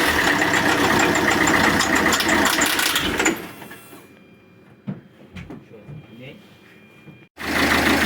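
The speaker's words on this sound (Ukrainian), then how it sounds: "Автомобіль працює." A Peugeot 407 2.0 HDI diesel engine idles loud and rattling for a few seconds, cuts out into near-quiet with a few knocks and clicks, then rumbles back on.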